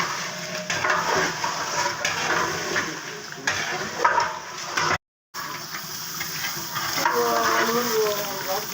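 Chicken frying and being stirred in a pan, with a steady sizzle and repeated scraping stirs running throughout, close and fairly loud, with a brief dropout midway.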